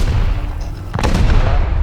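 A gate is blown apart in the Rust video game: a sudden loud explosive boom lands near the middle, followed by a rumbling, crackling tail over steady game noise.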